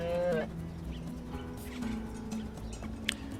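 A single short moo from cattle in the train-building game Train Valley opens the clip over game music, followed by faint clicks, with no speech.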